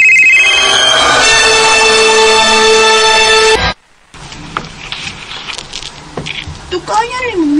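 An incoming call sets a phone ringtone chiming loudly and close for several seconds before it cuts off abruptly. A short silence follows, then quieter clicks and movement with a faint warbling tone.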